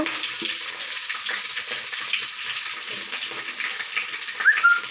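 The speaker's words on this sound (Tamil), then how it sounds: "இப்போ நான் கடுகு ஆட் பண்ணிக்கிறேன். பச்சை மிளகா, கருவேப்பிலை," Mustard seeds, green chillies and curry leaves fry in hot oil for a South Indian khichdi, giving a steady close sizzle with scattered crackles and a brief sharper spatter near the end, and no talking.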